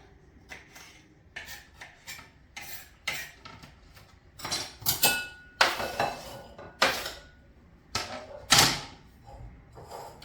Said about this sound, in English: slice your red pepper, and you want to make it fairly small little pieces